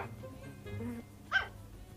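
A puppy barks in a Free Fire match, giving one short, sharp yip that stands out above a low game background.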